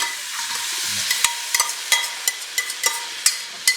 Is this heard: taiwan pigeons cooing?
no